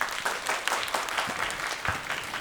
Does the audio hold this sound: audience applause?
yes